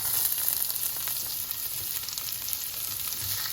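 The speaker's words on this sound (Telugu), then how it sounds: "ఇప్పుడు కొంచెం వేగిన తర్వాత ఆనియన్స్ అనేది వేసేద్దాం" Onions sizzling as they fry in a pan, with a close steady crackle and hiss and faint stirring, with no voices.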